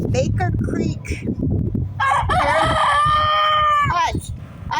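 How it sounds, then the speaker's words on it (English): A backyard rooster crows once loudly and close, a drawn-out strained call after some clucking and scratchy farm noise, with no speech over it. "Ignore my rooster, he's wanting to be heard today."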